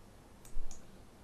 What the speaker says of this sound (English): let's get back to our report page by clicking this Done button